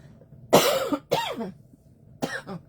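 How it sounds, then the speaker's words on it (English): Three harsh coughs, close and loud: two in quick succession, then a third after a short pause. "I've had this cough forever."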